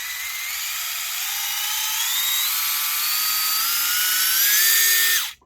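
A small high-pitched electric motor of a WLtoys K989 1/28 micro RC drift car whines steadily upward in pitch for several seconds, then cuts off abruptly; loud and close, no voices.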